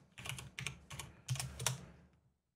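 Quick bursts of typing on a computer keyboard, about five short clusters of key clicks, close and fairly quiet, ending in silence.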